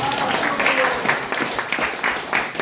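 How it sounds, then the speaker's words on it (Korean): Audience applause for Professor Kwon after an economics and security lecture, a steady wash of clapping filling the room at close range, with some voices mixed in. "우리 권충식 교수에게 큰 박수 한번 드립니다"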